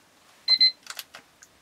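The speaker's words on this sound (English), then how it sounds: "there goes my timer." A kitchen timer goes off while brownies bake: two quick, bright beeps close by, followed by a short clatter of handling noise in a quiet kitchen.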